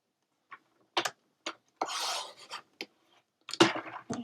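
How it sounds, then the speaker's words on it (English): Scissors snip and rasp through a sheet of craft paper, several short separate cuts with one longer drawn-out slice in the middle, close and quiet, with no talk. "We're going to cut that piece out."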